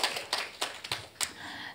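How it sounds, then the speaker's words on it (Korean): Applause at a conference session, heard as five or six separate hand claps, each a brief sharp burst, soft and somewhat distant, with no one speaking. "여러분 박수 부탁드리겠습니다"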